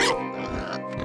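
A cartoon puffer pig creature from a Star Wars animated series grunts and squeals in one continuous, close, loud snorting call.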